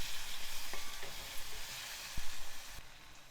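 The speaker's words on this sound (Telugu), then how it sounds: "చిన్న ముక్కలుగా తరిగి వేసుకోవాలి ఇదంతా కొంచెం వేగనివ్వాలి టమాటా మెత్తబడనివ్వాలి" Chopped tomato frying in a pan at home, a steady broadband sizzle running throughout with a few soft utensil clicks and scrapes, close and fairly quiet with no talking.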